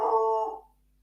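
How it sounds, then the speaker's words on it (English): A dog howls indoors: one short, tonal howl lasting under a second that fades out quickly, with no other sounds around it. "Oh, that's the dog howling."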